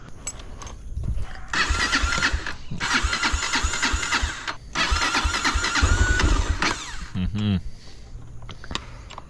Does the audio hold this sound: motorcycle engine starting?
yes